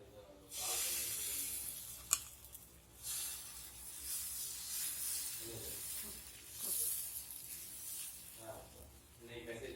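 Green gram dosa batter poured onto a hot pan sizzles and hisses in steady, loud bursts that swell and fade, with a sharp click near the start and a voice speaking over it.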